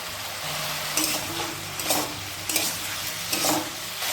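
Kohlrabi frying with turmeric and salt in a tempered pan, a continuous sizzle broken by several sharp stirring scrapes of a spoon against the pan, close up with no voices.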